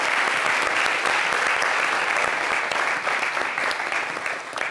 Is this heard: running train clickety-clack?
no